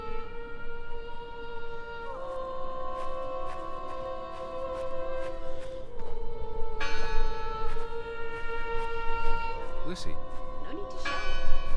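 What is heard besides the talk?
bell ringing in the video game Draugen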